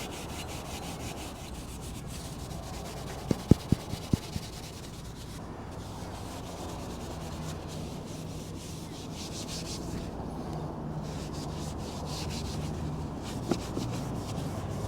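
Steady, continuous abrasive scrubbing with 4-ounce steel wool, soap and Purple Power degreaser on a seized engine, close and constant with a few brief knocks early on.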